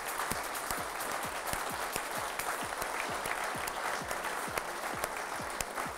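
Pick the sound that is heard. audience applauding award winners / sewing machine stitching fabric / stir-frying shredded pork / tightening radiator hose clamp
audience applauding award winners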